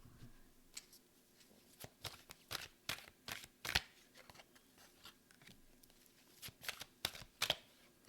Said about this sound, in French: Je vais prendre 3 dernières cartes pour vous.